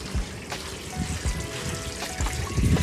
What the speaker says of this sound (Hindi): ये खजूर का है, सबसे पहले हम लोग पानी देते फिर अंदर घुसते शोरूम का।